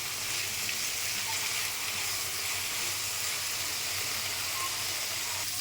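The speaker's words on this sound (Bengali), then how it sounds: "শিমলাটা একটু হালকা ভেজে নিতে হবে।" Capsicum fries lightly in a pan with a bay leaf and a green chilli, giving a steady, even hiss and sizzle that continues unbroken at moderate volume.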